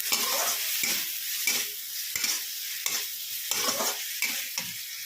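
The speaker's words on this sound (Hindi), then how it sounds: "इसमें हम लहसुन अदरक का पेस्ट डालेंगे। इन सभी को अच्छे से भूनेंगे" Garlic ginger paste sizzles in a hot pan while a spoon scrapes and stirs in repeated strokes, the frying hiss continuous beneath the rhythmic scraping.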